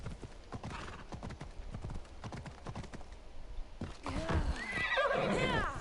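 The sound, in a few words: horse hooves and neighing in video game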